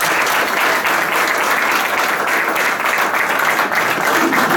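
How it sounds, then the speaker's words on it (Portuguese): A crowd applauds a singer, dense, loud and continuous clapping filling the whole stretch without any talk over it. "mais uma salva de palmas"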